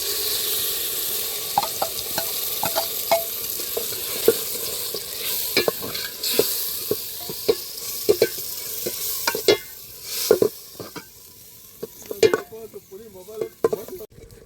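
Masala frying with tomatoes in a pan for a spicy egg sambar, a steady sizzle broken by frequent sharp scraping strokes of a spoon, close and fairly loud with no talking.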